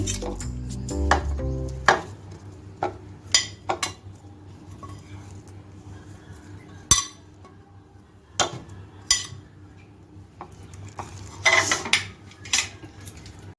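Raw mango pieces tossed into a metal bowl with spices for pickle, scattered clinks and scrapes of a spoon against the dish, with sharp knocks spaced out between quieter stretches.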